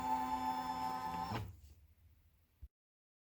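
Embroidery machine working a Christmas pillow design gives a buzzing, tonal mechanical whir that halts abruptly, followed by quiet and a single soft click.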